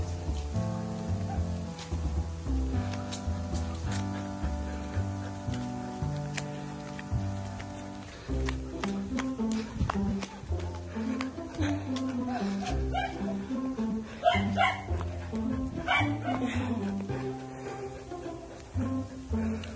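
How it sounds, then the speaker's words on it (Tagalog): A dog barks and yips below during a morning husky walk, repeated barks and whimpers heard under steady music and people talking. "nakita na may aso sa baba"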